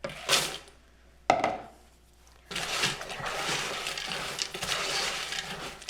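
Cinnamon Toast Crunch cereal is tipped into a pot of melted marshmallows and stirred, giving a dry rattling pour followed by steady scraping and rustling against the pot, up close.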